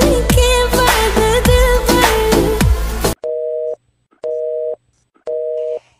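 A telephone busy tone beeps three times in even, steady pulses with short silences between, following a louder burst of ringing tones at the start.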